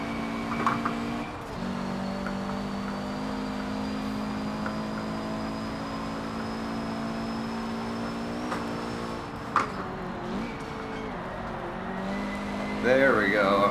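Turbocharged car lapping the Nordschleife in Forza Motorsport 7, its engine droning steadily with pitch shifts as gears are changed, a sustained close engine tone with brief bumps and rising revs near the end.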